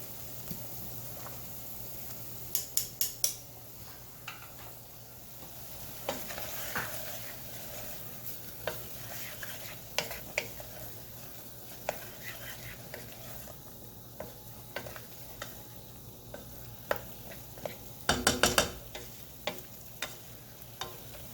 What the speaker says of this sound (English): And stir our noodles again.